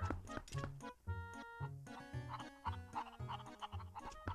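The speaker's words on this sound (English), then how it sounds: "Oh, it's a chicken. Bunch of chickens here." Chickens cluck in a farmyard scene of the video game Zelda Twilight Princess HD, quick bursts of clucks and squawks repeating over a music-like tonal background at low level.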